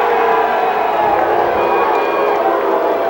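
Boxing arena crowd reacting to the judges' split decision after Terry Ray vs Roosevelt Williams: a loud, sustained roar of massed voices with siren-like whistling, continuous and dense throughout.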